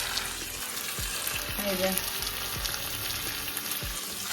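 Chicken frying in a pan gives a steady, moderate sizzle throughout, with a few low knocks from stirring and a faint tonal hum in the background.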